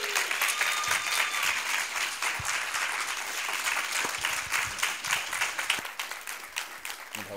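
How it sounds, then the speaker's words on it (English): Live seminar audience giving a round of applause, dense sustained clapping from a sizable crowd that holds steady for several seconds, full and close. "Can we give her a round of applause?"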